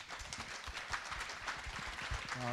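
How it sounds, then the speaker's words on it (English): An audience at an arts festival applauding performers: steady dense clapping throughout, loud and continuous, with no voices over it. "another round of applause for amazing artists"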